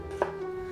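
A knife chops through ginger slices on a board, cutting them into strips, giving a single crisp, close chop over a faint steady background hum, no voices.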